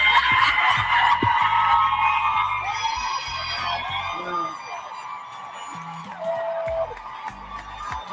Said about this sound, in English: I like a round of applause when I come out all these cameras.